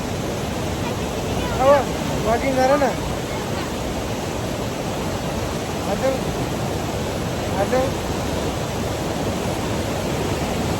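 A waterfall beside a trail on the Panchakunda trek in Nepal, North ABC route, gives a steady broadband roar throughout, with hikers briefly talking over the rushing water.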